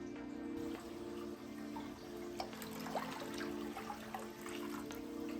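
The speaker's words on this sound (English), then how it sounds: "So I added 1 gallon of water to this pan." Water runs steadily into a pan as a gallon is added for dipping coral frags, a soft continuous trickle with faint splashing, alone with no talk.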